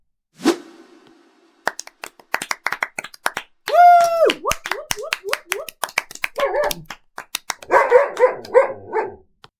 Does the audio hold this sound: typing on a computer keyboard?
no